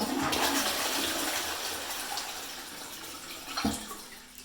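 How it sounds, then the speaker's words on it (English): A household toilet, just cleared of a blockage, flushes with a steady rushing wash of water that slowly fades as the bowl drains, with a brief gurgle near the end and no talking. "Let's give it another flush."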